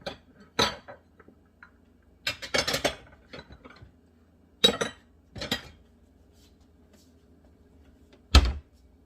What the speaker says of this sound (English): Let me get a bowl and dip it up.